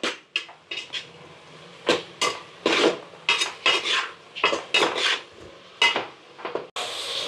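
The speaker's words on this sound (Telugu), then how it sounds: "ఇక క్యాబేజ్ మంచిగా వేసుకొని ఇట్లా కలిపేసుకుందాం" Shredded cabbage is stirred into ghee in a pan, producing a run of close, irregular metallic scrapes and clinks from the spatula against the pan.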